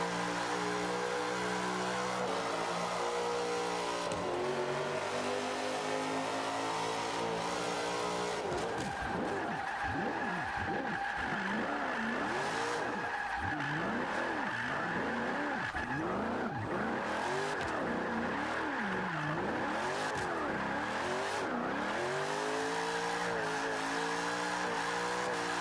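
Nissan Fairlady Z rear-wheel-drive drift build lapping in Forza 5, engine revving up and down through gears with long tire squeals during slides, steady and loud throughout.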